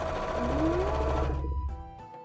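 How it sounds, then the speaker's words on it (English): A sewing machine runs steadily as it stitches across a flat seam on a plushie, a close, continuous mechanical whir that slows and fades near the end. "I'm just going to make sure that all of this stays nice and flat as I sew it"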